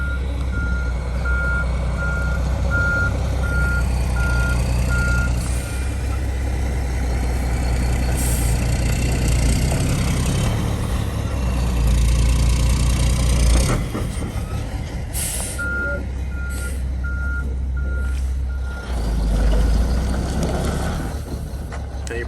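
A heavy dump truck rumbles steadily while dumping materials, its reversing alarm beeping in an even repeating pattern, stopping partway and then resuming, with hissing air brakes.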